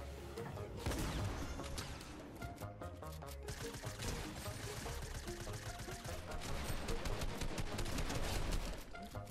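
Rapid, overlapping gunfire from Fortnite rattles without pause, loud and busy, mixed with game effects and occasional voices in the background.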